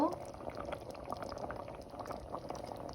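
Creamy potato soup bubbling at a boil in a pot, a steady low simmering burble with soft popping, heard close and continuous throughout with a faint voice in the background.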